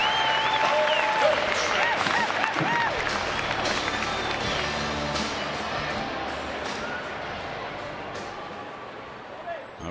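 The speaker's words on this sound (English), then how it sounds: "he'll head to the dugout with another standing O" Baseball crowd at an Arizona Diamondbacks home game giving a standing ovation, steady applause and cheering from a large stadium audience that fades slightly toward the end.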